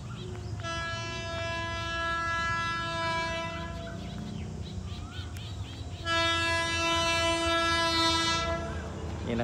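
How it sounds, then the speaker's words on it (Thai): Hitachi 4505 locomotive hauling rapid train 172 past a level crossing sounds two long loud horn blasts over a rumbling, clattering train, with a voice speaking briefly underneath. "นี่นะครับรถเร็วที่172นะครับวันนี้ทำขบวนโดยฮิตาชิ4505ครับ"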